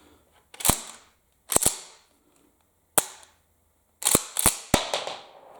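A Winchester Model 120 Ranger 12-gauge pump shotgun is dry-fired on a snap cap, with sharp metallic snaps of the hammer and the clack of the pump action cycling, several separate bursts with quiet gaps between them.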